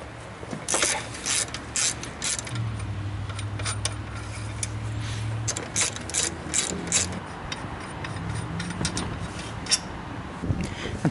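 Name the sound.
15mm ratchet removing lower alternator bolts on Chevy 5.3 engine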